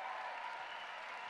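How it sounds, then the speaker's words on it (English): Crowd applause for the 13-year-old winner at the Air Wipp Challenge 2017, a short burst of steady, fairly distant clapping. "Give it a round of applause."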